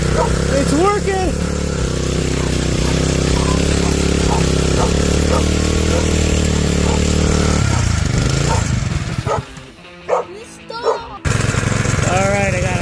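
A homemade drift trike's small engine runs on a rigged throttle, a steady loud drone that surges and then cuts back near the end, with voices talking over parts of it.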